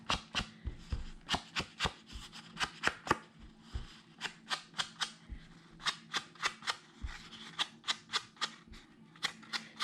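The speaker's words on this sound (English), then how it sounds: "take a sponge and just distress the edges" A sponge is dabbed and rubbed along the edges of a paper card, giving quick dry scuffing taps in fast irregular bursts, close and fairly crisp, with no talk.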